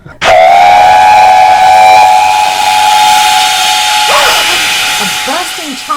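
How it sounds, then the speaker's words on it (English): A loud chiming steam whistle bursts in suddenly and holds a steady multi-tone blast, with a broad hiss of escaping steam underneath that trails on as the whistle fades. "A bursting chime whistle and a cloud of steam jerked Caitlyn back to consciousness"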